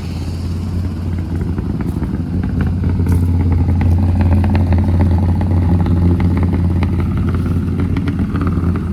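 A 1968 Dodge Polara V8 runs on a new four-barrel carburetor and intake, idling loud and close with a steady rough rumble and mechanical clatter throughout.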